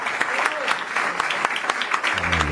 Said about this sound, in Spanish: Un fuerte aplauso por eso.